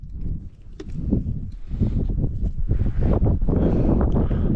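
Steady, heavy mountain wind on the Appalachian Trail in the Roan Highlands buffeting the microphone, a continuous low roar with gusts, loud and close throughout.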